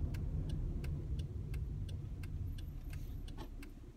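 A car's turn signal indicator ticks in a steady, regular rhythm, about ten clicks at a constant pace, over a low idling engine rumble inside the vehicle at a roadside pull-over.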